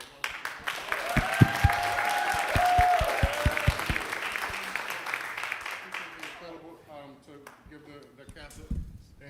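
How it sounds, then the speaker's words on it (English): An audience in a small library theatre at a Black theatre event applauds the cast, clapping building and then fading over several seconds before a voice carries on speaking alone. "give the cast a round of applause as well"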